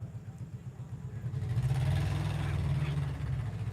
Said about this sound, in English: I hear only the tractor.